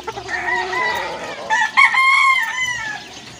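Several roosters crow loudly nearby at a poultry farm of fighting cocks, their long rising calls overlapping, with hens clucking in the background.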